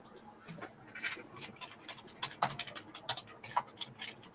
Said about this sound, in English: My bad if y'all can hear the keyboard.